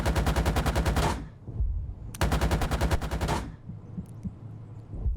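Two long bursts of rapid, heavy BMP-2 autocannon fire in a video game, each about a second or more, with echoing rumble trailing after each burst.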